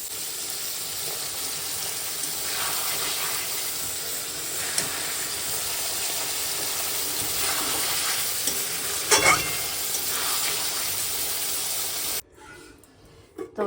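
Meat being sautéed and stirred in a pan makes a strong continuous sizzle with scraping strokes and a few sharper knocks, close up, before the frying cuts out near the end.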